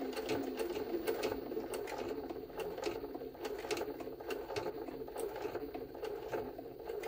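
A Jaguar SJ-23 sewing machine runs at speed, giving a steady, fast, close mechanical stitching rattle that continues without pause and without speech.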